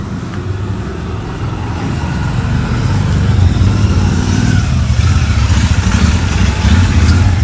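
A new motorcycle being ridden around for a round near a home, its engine rumbling steadily and loudly throughout, growing slightly stronger midway with no talking.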